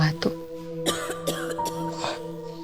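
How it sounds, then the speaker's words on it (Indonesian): Several short coughs and throat-clearing bursts from a person, scattered over a faint steady hum with tones in the room, moderately near and unaccompanied by talk. "ada suara orang batuk"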